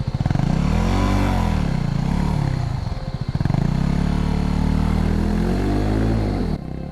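A Yamaha WR250R motorcycle is stuck on boulders on a high-country trail, its single-cylinder engine revving hard in rising and falling surges, loud and close, with a short drop in the middle.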